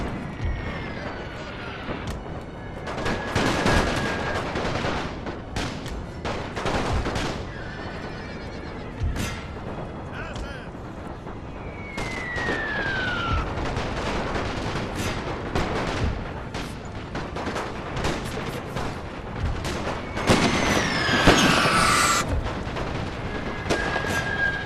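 A Great War battle in a strategy game, Romania front: scattered gunshot cracks and volleys mixed with horses neighing and hooves clattering, a dense busy battlefield din with someone talking over it.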